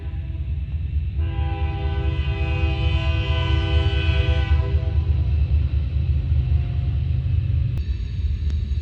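A train rumbles past a campground near Spook Cave, Iowa, with a long, loud horn blast sounding over the steady roar of the wheels before it fades back to rumbling.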